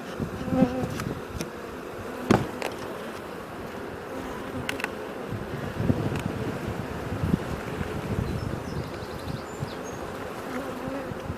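Honey bees from a very large colony buzz in a dense, continuous drone during a hive inspection, close up, with occasional knocks and clicks from handling the frames and boxes.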